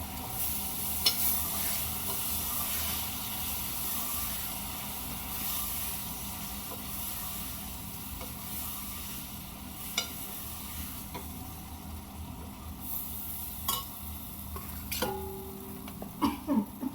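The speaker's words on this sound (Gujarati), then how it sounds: "આપણે ગવાર બટાકા ડુંગળીનું શાક વઘારવાનું છે." Cluster beans, potato and onion curry tempered with cumin in a hot pan: a steady oily sizzle with stirring runs throughout, and a few metallic clinks of the utensil against the pan come near the end.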